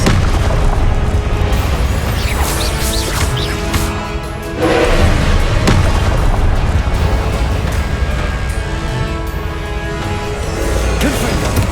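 Confringo blasting-spell explosions in the game Hogwarts Legacy, a loud, continuous barrage of booms and crashing impacts that briefly dips before surging again.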